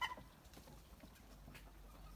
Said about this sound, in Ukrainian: Ось гарний півник